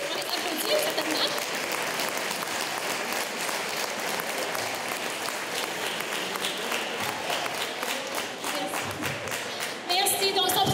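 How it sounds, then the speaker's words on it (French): A crowd at an evening event applauds its volunteers with sustained, dense clapping that continues throughout, with voices mixed in beneath it. "on les applaudit, certainement"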